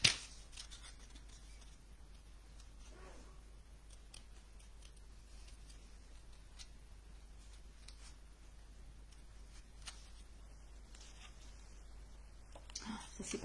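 Scissors and other craft tools are rummaged through and handled during paper card making, giving scattered light clicks, taps and rustles at close range over a quiet background, with a louder clatter at the end.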